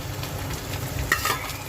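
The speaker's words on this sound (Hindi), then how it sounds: "थोड़ा भूनने देंगे।" Tomatoes fry in a pan for an Indian chicken gravy, with a low, steady sizzle, a few sharper crackles and stirring scrapes near the middle, and no voices.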